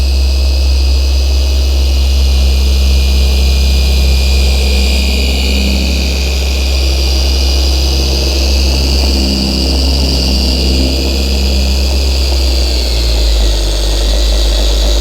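A Zentool 21E2 polishing machine runs on a Mazda car bonnet, a loud, steady motor whir with a deep hum and high whine, spinning continuously with slight changes in pitch as the pad works the paint.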